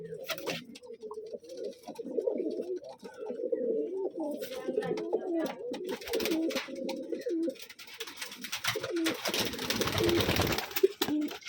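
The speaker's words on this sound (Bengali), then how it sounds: "এগুলো তো বিস্কিট কালার কবুতর" Biscuit-coloured Rajshahi gerebaj pigeons coo continuously and in overlapping rolling calls, several birds close together and clearly audible throughout.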